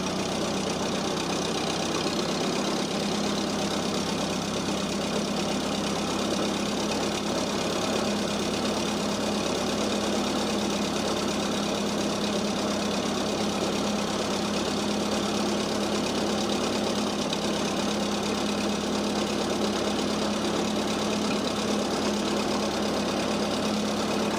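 A vehicle engine idles steadily with a low, knocking hum as it is shifted into first gear, a continuous close rumble with no break.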